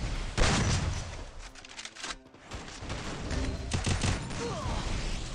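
Rapid gunfire from the mobile battle game Free Fire crackles in dense bursts, loud and nearly continuous, with a brief lull in the middle and faint voices underneath.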